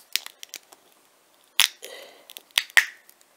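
Hardened hot glue peeled away from the inside of a lid: a few sharp close clicks and snaps, then a brief tearing, crackling pull, with short quiet gaps between.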